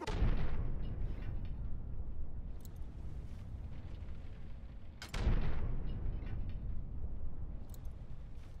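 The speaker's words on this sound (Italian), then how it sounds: "Belle le granate." Two heavy grenade explosions in the video game Fallout 3, each a sharp loud blast followed by a long low rumbling decay, the second about five seconds after the first.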